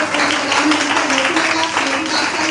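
A church congregation claps during a sermon. Loud, continuous, dense applause fills the room evenly, with voices mixed in underneath.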